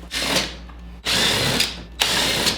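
A power ratchet spins out 7mm bolts from the front lip of a Ford Mustang S550, in three close, loud whirring bursts separated by brief pauses.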